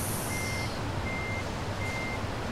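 A truck reversing in the Trucks & Trailers game gives steady evenly spaced beeps, three in a row, over a constant engine drone.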